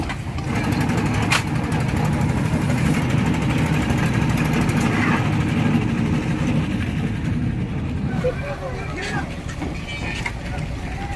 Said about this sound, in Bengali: যে বরফ গুঁড়ো করা চলছে এবং গুঁড়ো করে সেই বরফগুলো নিয়ে যাওয়া হচ্ছে